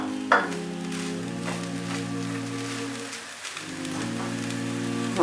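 Onions hitting hot oil in a pan for chicken roll filling, giving a steady sizzle and crackle that carries on under a continuous low background hum.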